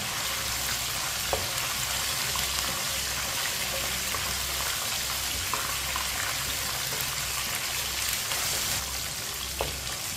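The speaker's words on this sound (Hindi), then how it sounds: "1 मिनट के लिए पका लेंगे लहसुन को" Garlic cloves fry in a pan with oil and whole coriander seeds, giving a steady close sizzle and crackle with occasional stirring clicks throughout.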